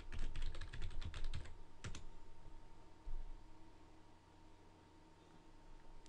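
Rapid clatter of keystrokes on a computer keyboard at a Windows command prompt, a dense burst of clicks followed by a couple of isolated taps, close and fairly quiet over steady background hiss.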